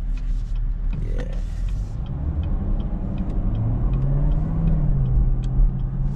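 A Chevrolet Camaro ZL1 on the road, its engine a low steady rumble under constant road and cabin noise that swells slightly as it pulls, with no one speaking.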